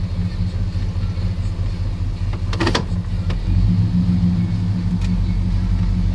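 A 9C1 car engine idles in gear with a steady low rumble, interrupted by a brief mechanical clunk before the idle note deepens slightly and continues.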